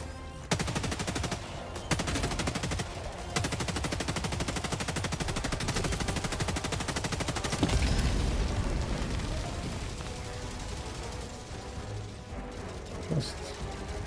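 Sustained rapid gunfire from Helldivers 2, shooting at a tank's vent, with dense rattling bursts running almost the whole time, a heavy blast near the middle and speech mixed in.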